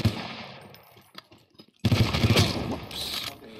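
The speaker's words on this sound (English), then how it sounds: "I just hear grenades going off." Gunfire and grenade blasts crackle in the PSVR shooter Alvo, sparse rattling shots first, then a sudden dense, loud burst of automatic fire and explosions.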